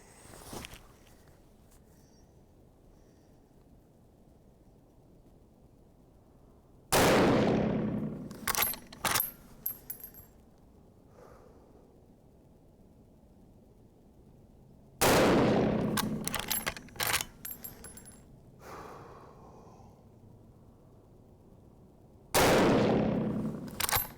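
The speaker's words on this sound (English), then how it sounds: "we're going to put 3 rounds of the 130 grain silver tip over the chrono and see what they are running." Three loud, sharp rifle shots from a 65-year-old Marlin 336 firing 130 grain Silvertip rounds, spaced several seconds apart, each followed by metallic clicks and clanks of the lever action cycling, over quiet outdoor background.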